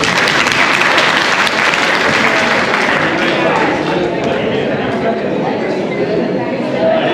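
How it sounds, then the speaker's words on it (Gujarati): Loud, sustained applause from a crowd honouring a turban at a Jain community chariot procession gathering, dense clapping continuing steadily throughout with a slight fade toward the end. "એક પાઘડી માટે એકવાર જોરદાર તાળી આપો"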